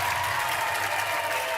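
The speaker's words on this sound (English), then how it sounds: "So Finiteri faces just 3, much to the delight of the home crowd here at Sewell Thomas Stadium." The home crowd at Sewell Thomas Stadium applauds and cheers a called third strike during an Alabama–Oklahoma college baseball game, a dense, steady wash of clapping heard from a distance.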